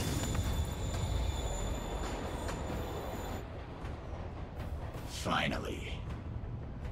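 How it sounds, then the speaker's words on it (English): A train rumbles steadily in the Spider-Man Remastered game, loud and continuous, with a high whine fading out partway through as it pulls away; a brief sweeping whoosh follows near the end. "Train's moving."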